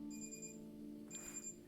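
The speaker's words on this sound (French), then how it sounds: "l'alarme qui sonne" An alarm clock rings in the video game Hello Neighbor 2 as a faint, steady, high electronic tone. It is interrupted briefly by a soft noisy shuffle and then resumes.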